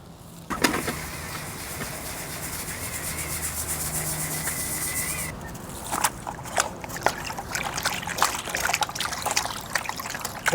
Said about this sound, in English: I think I'm gonna run this through my kitchen strainer just to make sure I get all the big chunks out first